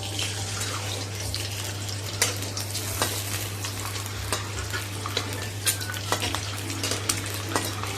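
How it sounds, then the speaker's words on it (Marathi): Eggs frying in about two spoonfuls of oil in a pan for a spicy village-style egg curry, giving a steady crackling sizzle over a constant low hum, with scattered sharper pops throughout and no talking. "यामध्ये ना ही अंडी फ्राय करायची आहे थोडीशी"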